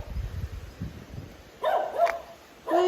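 A dog gives a few sharp barks in a row at moderate distance outside a house under renovation by Lake Como, following some low rumbling noise.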